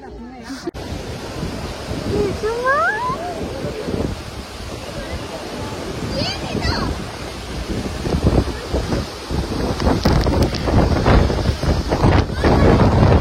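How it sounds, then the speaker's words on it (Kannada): Strong wind and heavy rain lash an outdoor spot just off a bus on a temple trip, a loud continuous buffeting roar with gusty swells and brief clatter, and people speak over it. "ಬಸ್ ಇಳಿದಿದ ತಕ್ಷಣ ಫುಲ್ ಮಳೆ, ಜೋರ್ ಗಾಳಿ, ಏನೂ ಕಾಣಿಸ್ತಾ ಇಲ್ಲ. ನಿಮಗೆ ಸೌಂಡ್ ಕೇಳಿಸ್ತಾ ಇರ್ಬೋದು"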